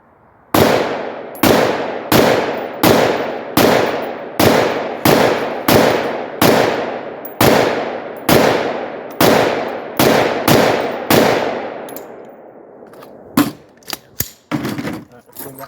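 Rifle fire with Defender Frangible .223 rounds from a short-barrelled rifle, a rapid series of about fifteen loud, sharp close-range cracks, each trailing a short echo. A few quicker, softer reports follow at the end.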